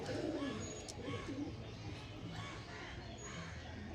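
Old-line pigeons in a loft give soft, low, rolling coos, several birds overlapping in a continuous gentle murmur at moderate distance, with a faint voice in the background.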